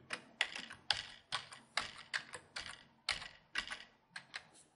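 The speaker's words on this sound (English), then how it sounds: "and then we're going to type in her name." Fingers type on a computer keyboard in quick, uneven clusters of close, crisp key clicks, with short pauses between bursts and no voices.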